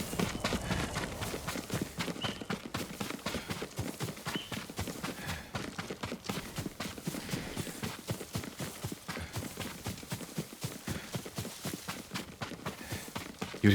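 Rapid hoofbeats of a galloping horse in the video game Ghost of Tsushima pound steadily throughout, close and continuous, with a faint snort or whinny mixed in.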